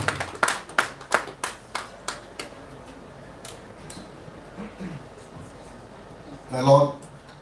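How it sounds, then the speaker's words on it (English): A few scattered hand claps from an audience at a book presentation and launch, sparse and fading over several seconds, with a burst of voices near the end. "It's a warm round of applause for him."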